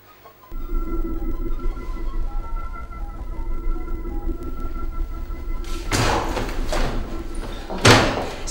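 A door creaks and scrapes as it moves, with a drawn-out groaning hinge, followed by louder thumps and a closing slam, all without talking.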